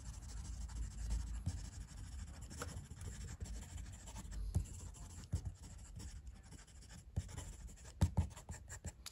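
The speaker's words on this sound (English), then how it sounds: "Fast writing, this pen has no worries." A Franklin Christoph Model 31 Omnis fountain pen with a rigid nib scratches quickly across paper, giving quiet, close, continuous scratchy strokes with small ticks as the nib lifts and lands, and no talk.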